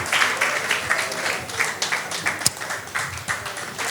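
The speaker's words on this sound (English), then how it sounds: "A round of applause for her," Event attendees give a fairly faint round of applause to welcome a woman onto the stage, with scattered, distant clapping that sounds somewhat thin.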